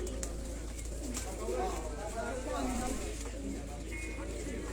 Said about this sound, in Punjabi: ਇਹ ਜੀ ਮਲਕ ਹਸਨ ਸਾਹਿਬ ਨਾਲ ਸੁਪਰਮੈਨ ਕਬੂਤਰ ਹੈ ਜੀ।